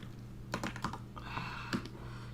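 A new keyboard that is quiet and not loud is being typed on at a desk during a comic-drawing session. The soft clicks come in small clusters over a constant low hum, and nobody speaks.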